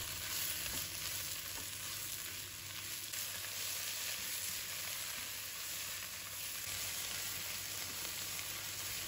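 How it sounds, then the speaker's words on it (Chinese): Napa cabbage leaves stir-fry in a hot wok, a steady, dense sizzle that holds evenly throughout with faint stirring scrapes and no voices. "继续炒至叶子也软化"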